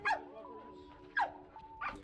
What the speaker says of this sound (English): So I took Kona out to the dog park just so she can socialize with other dogs